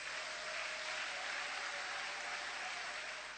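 A church congregation applauds in a steady, even wash of clapping that holds at a constant moderate level for the whole stretch, with no voices above it.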